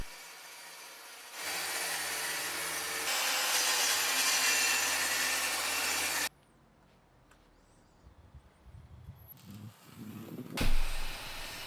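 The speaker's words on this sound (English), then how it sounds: "And so I've put a new rip saw blade on the circular saw." Circular saw fitted with a new rip blade cutting through a long 3-inch oak board, a loud, steady, close whine for about six seconds before the cut stops and the room goes quiet.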